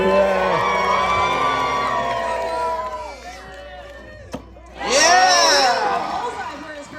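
Crowd at a lumberjack show cheering and whooping, loud and broad, easing off midway, then a second burst of shouts and cheers near the end with some voices mixed in.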